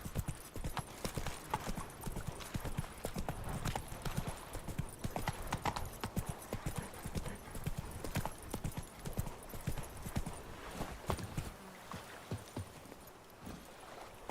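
Horse galloping in The Witcher 3 video game makes rapid, rhythmic clip-clop hoofbeats that drum steadily and fairly faintly throughout, easing off toward the end, with no talk.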